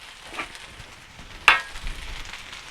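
Anchovies tossed into hot masala oil give a soft, steady sizzle, with one sharp splashy crackle as they hit the pan, heard close up and without speech.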